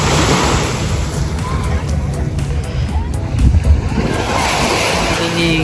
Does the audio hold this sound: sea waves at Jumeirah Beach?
yes